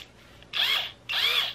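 A handheld power drill gives two short bursts, each about half a second, close and fairly loud with a whirring, slightly rising pitch, separated by a brief pause.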